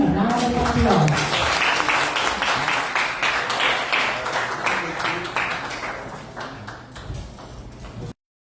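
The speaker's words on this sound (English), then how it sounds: "Can we give again a round of applause?" Audience applause at a city council regular session in Danao City, a dense, sustained clatter of many hands that rings out for several seconds and slowly tapers, with a speaking voice over the start.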